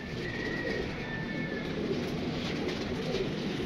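High flyer pigeons coo softly in a steady low murmur against a constant background hiss, fairly close but not loud, with no talking.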